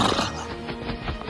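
A horse whinnies loudly up close, followed by a few clip-clop hoof steps.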